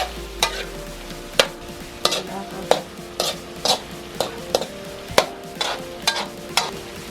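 Potatoes fry in a pan under a sizzle while a utensil scrapes and knocks against the pan in a steady rhythm of about two strokes per second. The sound is close and clear, with no talking.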